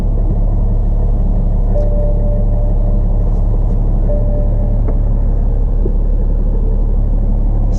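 A 2011 BMW 335d M Sport diesel engine runs right after starting, giving a loud, steady low rumble that holds evenly for about eight seconds with no one speaking.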